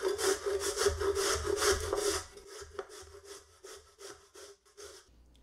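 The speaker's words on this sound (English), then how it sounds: "Now using the large side of the grater," Zucchini being grated on the large side of a box grater, a fast run of rhythmic, scratchy rasping strokes up close that slow and thin out near the end.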